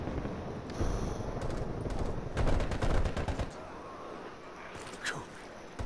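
Gunfire in a Cold War shooter video game: rapid bursts of automatic fire and scattered single shots, loud and close, over a dense game soundscape.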